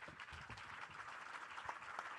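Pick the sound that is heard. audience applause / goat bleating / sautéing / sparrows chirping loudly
audience applause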